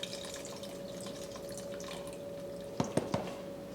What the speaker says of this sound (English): I just filled this up with water. I'll add in water.